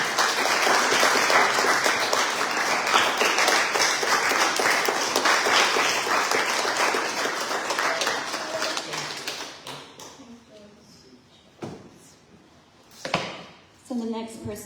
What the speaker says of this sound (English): So please give Julie a round of applause.